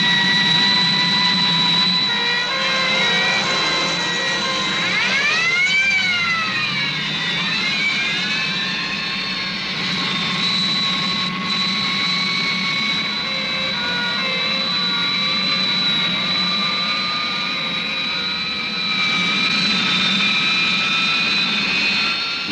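A loud, continuous jet engine roar with a high whine that dips and wavers, like a jet aircraft diving close by, as a plane goes down to crash in a 1964 French TV drama.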